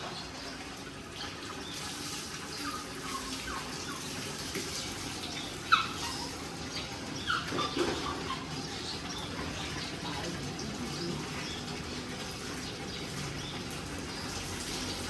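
Water running faintly and steadily while a dog is bathed, a soft continuous trickle with small splashes, under quiet background voices.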